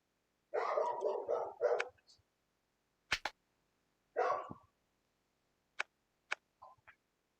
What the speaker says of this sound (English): Not my dog. It's the neighbor's dog.